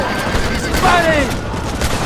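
Gunfire in the Red Dead Redemption video game crackles in a short burst of shots amid shouting voices, loud and close.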